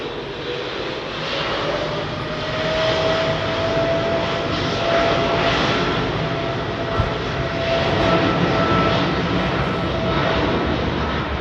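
A jet aircraft at London Heathrow Airport roars loudly and continuously, with a faint whining tone running through the middle stretch and one brief knock near the end.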